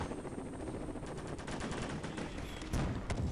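Rapid gunfire in the military shooter Warfare crackles steadily throughout, dense automatic and sniper shots layered with battlefield noise, loud and continuous with a sharper burst near the end.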